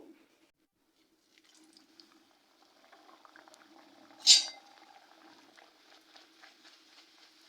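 Pea-stuffed kachoris deep-frying in hot oil in a kadai: a faint, steady bubbling with one brief, louder hissing burst midway, no voices.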